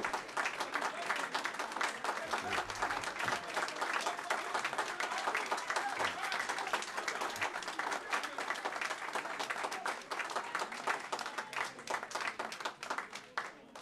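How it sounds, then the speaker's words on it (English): Steady, dense clapping from a crowd at a North Miami city council meeting, holding at an even level throughout with scattered voices faintly underneath. "This is the correct time to clap."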